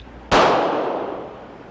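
.40 S&W pistol firing a 165 grain bullet in a terminal ballistics test. One sharp, loud report cracks out and trails off into a fading echo.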